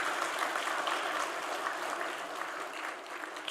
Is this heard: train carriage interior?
no